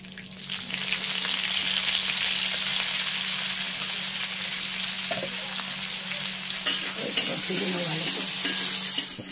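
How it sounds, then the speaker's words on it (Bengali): Chopped onions fry in a pan with dried red chilli and a bay leaf. A loud, dense, steady sizzle runs throughout, with a few light utensil stirs and clicks near the end. "পেঁয়াজটাকে ভালো করে ভেজে নিচ্ছি"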